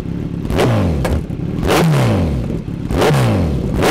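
A 2023 Kawasaki Z900 BS6 motorcycle with a carbon aftermarket exhaust revs three times in sharp throttle blips, each rising and then falling away over a loud, gruff idle, close up.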